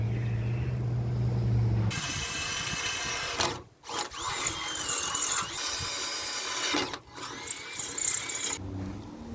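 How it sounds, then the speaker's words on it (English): A power drill whines loudly and steadily, pausing briefly twice as it bores bolt holes for a rear air suspension on a 1998 Dodge Dakota, close up with no talking. "Now I can drill them."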